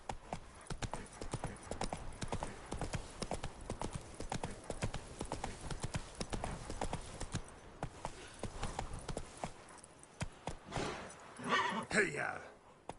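The horse Roach gallops in Witcher 3, a steady run of loud, close hoof clip-clops that carries on throughout, with a brief whinny and some rustling near the end and a voice calling out.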